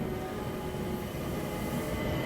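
Steady rumbling train run from the Murder on the Orient Express video game, a continuous rolling rail clatter and hum with no voices over it.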